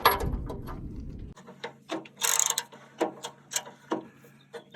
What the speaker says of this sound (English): You're just going to undo your plug there and let the oil come out.